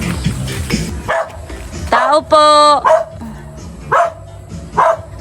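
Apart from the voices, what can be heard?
dog barking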